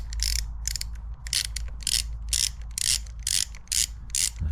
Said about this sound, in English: So I'm just going to loosen that off first.